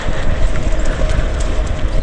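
A short train runs on a rural railway line in the Japanese countryside with a loud, steady rumble and clatter of wheels, close by, with no pauses and no talking.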